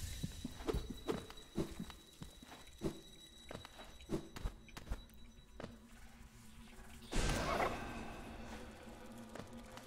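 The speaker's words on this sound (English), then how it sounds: "Weird heartbeat going on around here." A heartbeat in the video game Hollow Knight thumps in a steady, slow rhythm, moderately loud and alone, before a louder, denser burst of noise swells near the end.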